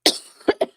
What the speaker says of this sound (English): Sorry about that. Coughing again.